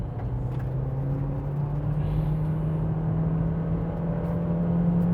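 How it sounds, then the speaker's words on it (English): A 2024 MG3 hybrid accelerating at full throttle, a steady engine drone heard from inside the cabin that rises gradually in pitch and stays loud throughout. "A little bit of wheel slip there, but now it's back to full throttle."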